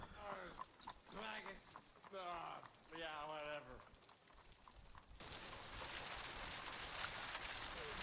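A voice talks for several seconds, then a steady, even hiss of falling rain takes over and continues to the end.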